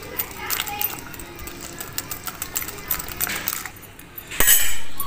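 A spoon beats cream and custard together in a bowl, making quick rapid clinks and scrapes against the bowl, with a voice speaking over the mixing and a louder clatter near the end.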